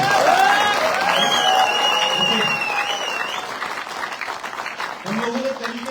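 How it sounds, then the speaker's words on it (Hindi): Applause from an audience at a direct selling industry conclave, a steady broad patter of clapping filling the hall, mixed with voices and some whistling or cheering, fading slightly toward the end. "तो जबरदस्त तालियां बजाएंगे"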